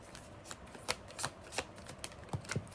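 Tarot cards shuffled by hand at close range, a series of soft riffling and tapping bursts in an uneven rhythm, quiet with no talk.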